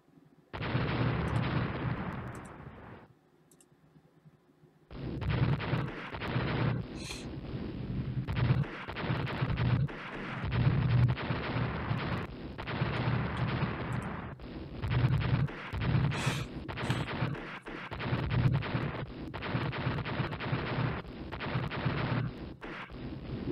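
Naval turret guns firing in the Rule the Waves naval battle game, a long run of loud booming shots and rumbling blasts with one brief lull near the start, no voices.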